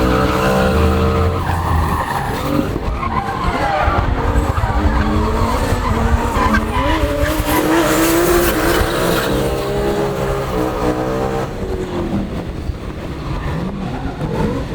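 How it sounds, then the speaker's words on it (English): A BMW M3 drifting on a track at a car show event, tires squealing and skidding continuously over a loud engine roar, close and sustained throughout. "Time to take the M3 out for its first lap."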